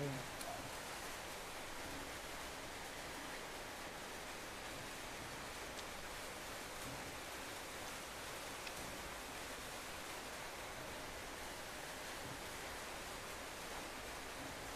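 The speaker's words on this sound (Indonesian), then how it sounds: "Pekan baru hujan ya guys" Steady rain falls in Pekanbaru, a constant even hiss heard from indoors during cooking, with no distinct drops standing out and no talking.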